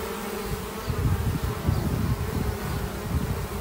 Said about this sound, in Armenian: արդեն բարձրանում են և ուղիղ կմտնեն փեթակ։